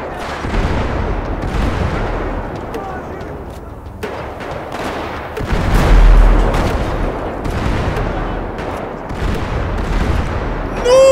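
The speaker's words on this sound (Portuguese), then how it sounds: "Foi um bombardeio," Explosions from a bombardment and gunfire in GTA V roar in loud, overlapping blasts and rumbling booms, with the heaviest burst around the middle, while people talk underneath.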